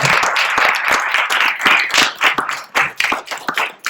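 Audience at the Rector's Forum church gathering claps for guest Brad Soderberg, a close burst of sharp hand claps that is dense at first, then thins into scattered, uneven claps as it dies away.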